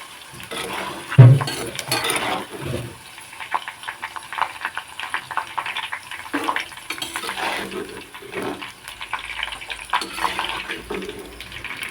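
Ivy gourd pieces deep-frying in hot oil for a spicy Tamil kulambu, a steady soft sizzle and bubbling with stirring clatter, one sharp knock near the start, continuous and close.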